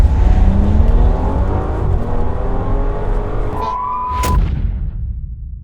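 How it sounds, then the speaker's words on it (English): A tuned W12 twin-turbo Bentley Bentayga launches hard from a standstill, its engine roaring loud and close with a steady rising drone, easing briefly before a sharp surge near the end. "All you gotta do is left foot on the brake, right foot on the gas, and we are go."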